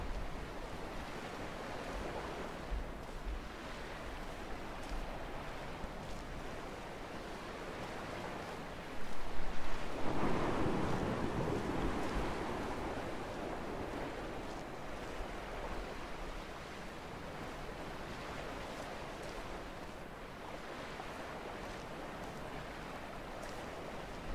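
Steady wash of video game ocean surf from Dear Esther rolling onto a beach, with a louder wave swelling midway before settling back into a continuous soft roar.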